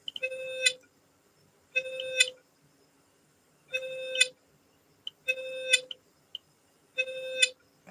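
A radiation detector alarm set off by a beta source sounds five evenly spaced electronic beep bursts, each a bright buzzy tone lasting about half a second, close and clear against near silence.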